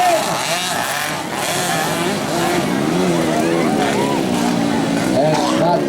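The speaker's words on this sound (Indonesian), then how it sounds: "sementara ketangguhan daripada Sandy Sandoro semakin kencang dia bergerak menggunakan motor Intel yang begitu kencang." Mini trail motocross bikes for riders aged 13 and under racing at a regional championship, engines buzzing and whining at varying pitch from near and far, with an announcer talking continuously over them.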